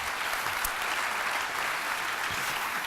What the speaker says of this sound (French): Un fort applaudissement.